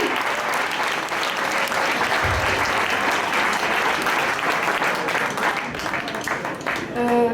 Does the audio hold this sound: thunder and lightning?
no